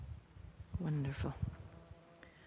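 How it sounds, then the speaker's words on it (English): A bee drones briefly past lupin flowers in a garden, a short, faint, low buzz that swells and fades within a couple of seconds against quiet outdoor background. "Lupins are loved by bees."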